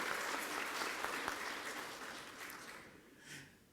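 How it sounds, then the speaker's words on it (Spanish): Applause from an audience at the opening ceremony of an international traditional music forum, a broad steady wash of clapping that gradually fades toward the end. "Un aplauso, por favor"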